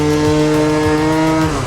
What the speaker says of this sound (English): she's revving good now